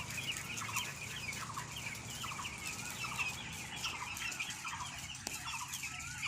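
Chickens at a poultry farm cluck and call continuously in a dense, busy chorus, with occasional wing flaps and a low steady hum beneath the flock.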